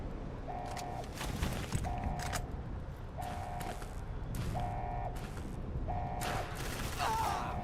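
Repeated gunshots from weapons in Fallout: New Vegas, Dead Money add-on, land in spaced bursts every second or so over a steady game background, each with a short ringing tone.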